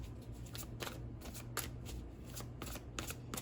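A tarot deck is cut and shuffled by hand at close range, the cards riffling in a quick series of crisp bursts over a low steady hum, with no talking.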